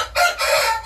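A Japanese Shamo rooster crows nearby, a short, loud, hoarse call broken into a couple of pulses and heard alone without talk.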